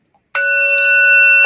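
A single meditation bell struck once during a guided relaxation session, ringing out suddenly with a bright, sustained metallic tone that hangs steadily after the strike, close and clear with no talking.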